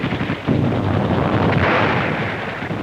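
Wartime gunfire in a 1943 newsreel as Soviet troops shoot down counterattacking Nazis, a loud, dense, continuous roar of shots and blasts with no break, and no voices over it.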